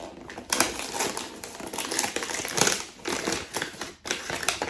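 An Advent gift package, likely holding a Funko Pop, being unwrapped by hand, with continuous close paper crinkling and tearing marked by repeated sharper rips.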